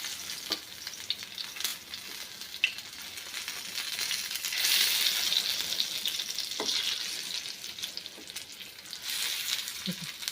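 Colocasia leaf rolls (alu vadi) sizzle steadily in a pan, a constant close crackle of frying with occasional clinks and scrapes as the pieces are turned.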